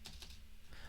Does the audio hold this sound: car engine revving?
no